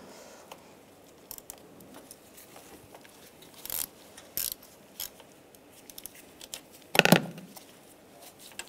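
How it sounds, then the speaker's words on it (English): A 5mm hex socket on a ratchet backs out the bolts holding an EGR valve to a pipe. Brief metallic ratcheting clicks and clinks come in scattered bursts, with one louder clatter near the end. "Now there's 3 bolts holding the EGR to this pipe here, and we're going to use a 5mm hex socket."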